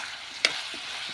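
Wild vegetables stir-fry in a pan with a soft, steady sizzle and one sharp clink of a utensil partway through, heard up close.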